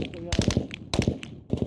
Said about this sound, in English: Steady gunfire.